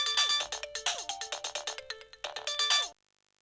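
Melodic mobile phone ringtone for an incoming call, rapid bright repeating notes played in close succession that cut off abruptly after about three seconds, with no voices.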